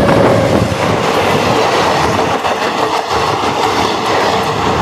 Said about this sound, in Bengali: ভাই সামনে দেখতে পাচ্ছ ট্রেন চলে এসেছে